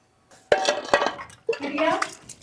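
Dishes and utensils clinking and clattering while being washed in a home kitchen, two sharp clanks followed by scraping and rattling, close and fairly loud, with a voice partly over it.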